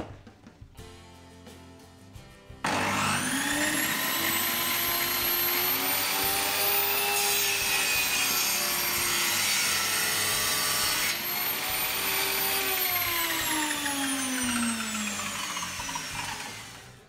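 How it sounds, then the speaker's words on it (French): A table saw starts up after a quiet moment and runs loud and steady, its whine dipping and rising as it bites through wood for a hive, then winds down. "Et on va retirer ça avec la scie sur table."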